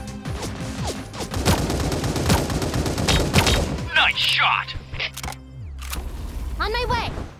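Rapid bursts of AKM and M249 gunfire in the video game Sausage Man crackle loudly through a close-combat fight, dense volleys for several seconds, then sharper isolated shots with game effects, while players talk over the action.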